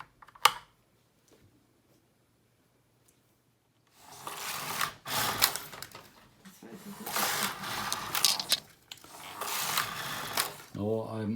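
Knitting machine carriage running across a rib at stitch size 6, with loud, close swooshing mechanical passes in a few long sweeps after a quiet start, and a voice speaking near the end.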